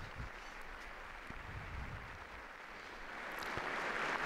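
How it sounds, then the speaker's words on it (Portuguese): Audience applause fills Paul VI Hall as Pope Francis walks in for a general audience, a steady wash of clapping that swells and grows louder toward the end. "Papa Francisco faz seu ingresso na sala Paulo VI, é aplaudido pelos presentes"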